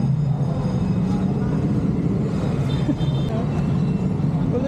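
Steady low roar of street traffic, engines idling and rolling nearby, constant loudness with a few brief higher squeaks, and people talking underneath.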